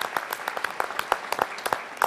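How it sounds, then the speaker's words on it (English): Audience clapping at a community gathering honoring sponsors, a scattered round of individual hand claps at moderate distance, uneven and fairly sparse rather than a dense ovation. "Give them another round of applause"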